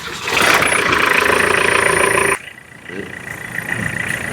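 A 2007 Tata Sumo diesel engine runs loudly and steadily with a mid-pitched hum, then drops abruptly to a quieter, rougher idle rumble.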